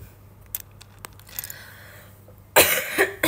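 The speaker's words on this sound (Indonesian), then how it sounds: "Tuh mendingan kan batuknya," A young woman coughs during an indoor live chat stream, a short loud burst near the end following quiet room noise and a few small clicks.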